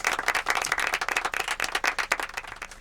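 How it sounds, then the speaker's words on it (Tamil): A big round of applause from a Tamil stage-show audience, dense rattling claps in uneven surges that carry on steadily throughout with no voices over them. "ஒரு பெரிய கரகோஷம்"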